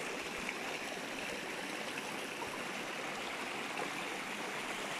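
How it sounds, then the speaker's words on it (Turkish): A waterfall and stream near Türkeli, Sinop rush steadily as broadband noise, continuous and fairly close, with no other sounds breaking through. "Bak şelaleye."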